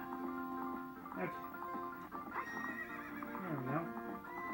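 Horse neighs and whinnies from the video game Ocarina of Time, layered over background game music with clip-clopping hooves, loud and continuous.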